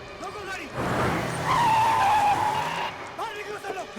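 A car skids to a stop, its tires squealing in a sustained, wavering shriek for about a second amid rumbling engine noise, with voices talking over it.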